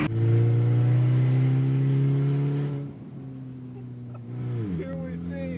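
An $800 car on a spirited drive, its engine droning loud and steady as it accelerates, easing off partway before a gear change brings a fresh rising whine; a voice can be heard talking over the engine.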